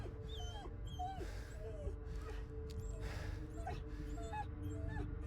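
A dog whimpers and whines in high, wavering cries from the Blair Witch video game, repeated over a low ambient drone with faint eerie music, fairly quiet and close.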